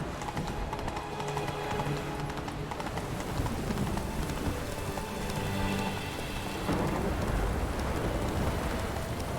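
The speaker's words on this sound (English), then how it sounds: "it's raining for so many hours here" Steady, dense rain pours down in an open-world video game, a continuous loud wash across the whole stretch, with a faint rhythmic clip-clop of a horse's hooves underneath.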